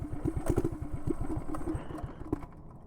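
A motorcycle engine runs rough and uneven, its close, irregular pulsing putter and clattering shake pounding for a few seconds before tapering off, with no speech.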